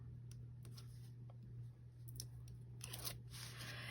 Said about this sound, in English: I'm going to go ahead and remove my tape backing